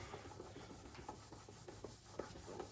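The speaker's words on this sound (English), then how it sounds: "we're just going to just rub against it and just remove any type of material" An oxidized, yellowed headlight lens on an old Toyota is rubbed by hand, a quiet, steady back-and-forth scrubbing with a regular rhythm and no talking.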